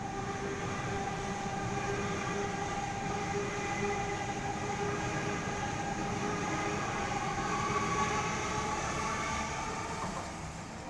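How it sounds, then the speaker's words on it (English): An eight-car Sydney passenger train rumbles past steadily at close range near Ashfield, wheels droning and motors whining with a sustained tonal hum, loud and continuous throughout. "It's an eight car train, David."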